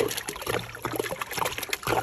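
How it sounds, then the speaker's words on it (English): Water pours steadily into a small frog tank, a continuous trickling, splashing stream that runs close and fairly loud throughout with no talk over it. "Filling up the frog's water."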